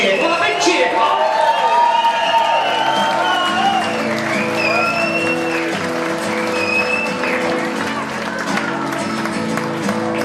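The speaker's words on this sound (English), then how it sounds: "Come on, a big cheer, come on!" Wedding guests clap steadily and cheer for the newly married couple, dense applause with scattered whoops and shouts sustained across the whole stretch.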